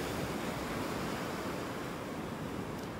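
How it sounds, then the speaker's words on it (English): Gulf waves break steadily on the sandy shore at Delnor-Wiggins beach in North Naples, Florida, a close, continuous roaring wash of surf with no break. "Well, actually, you can see the waves."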